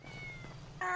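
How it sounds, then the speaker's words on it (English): A cat in GTA 5 roleplay gives a short, clear meow that swells suddenly at the end of a second of low background sound. "I need you to grab hold of your cat if you can, right, meow?"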